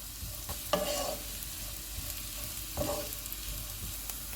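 Carrots stir-fry in a pan over a full flame, a constant soft sizzle broken by two distinct scraping stirs, close and fairly quiet.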